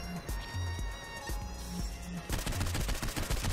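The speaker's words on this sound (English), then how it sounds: "Okay, so let's just keep shooting people." Rapid gunfire rings out in Saints Row IV, short sharp shots popping in uneven bursts over background game music, then a denser, faster string of shots near the end.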